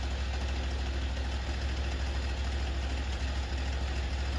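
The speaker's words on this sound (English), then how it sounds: "To stop the engine, turn the throttle down to minimum." Engine of a remote control flail mower (MTSK1000) idling at minimum throttle, a steady low drone and knock, close and constant with no talk.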